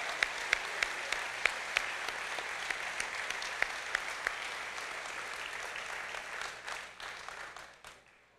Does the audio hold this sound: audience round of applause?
yes